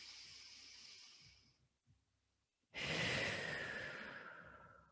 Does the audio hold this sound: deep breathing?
yes